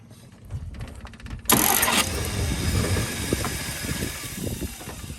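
A 1951 Studebaker engine cranks and catches with a sudden loud start, then settles into a rough, steady idle with uneven pulses and a high whine, close by.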